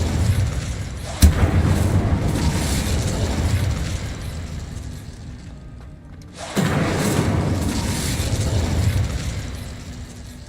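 A fire spell cast in Hogwarts Legacy, a sharp burst at the onset followed by a loud, sustained roaring whoosh of flame, then a brief lull and a second swelling fiery rush.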